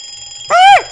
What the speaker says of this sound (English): you're going to start with the alarm going off